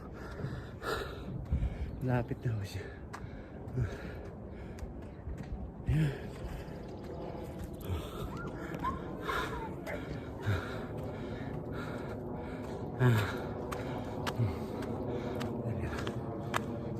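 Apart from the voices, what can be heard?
person panting while walking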